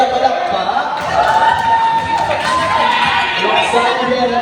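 At a ball, a crowd cheers and shouts as a raffle winner is announced, a loud, continuous wave of voices with a bit of clapping mixed in and someone talking over it.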